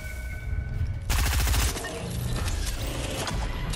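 Rapid bursts of gunfire in a shooter video game on a squad's rooftop skirmish, with a loud dense volley in the middle and steady repeated shots continuing around it, no talk.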